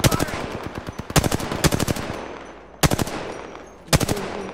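Hip-fired automatic weapon in the Apex Legends video game, loud rapid bursts of gunfire, four separate volleys close up, each a quick rattle of shots.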